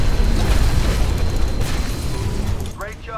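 A charged cannon firing in the video game Titanfall lets out a loud, booming blast that rolls on through most of the stretch and fades out at the end.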